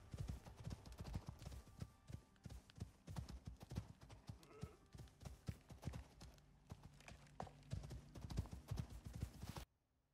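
Horse mount in the survival game ICARUS trotting with steady, rapid clip-clop hoofbeats, close and fairly loud, with a brief whinny partway through and no talking.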